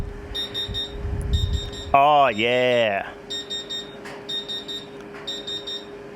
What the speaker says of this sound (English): it's definitely a low flow alarm